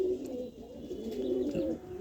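Pigeons offered at a bird sale coo steadily and close by, a low rolling, continuous cooing with no talk over it.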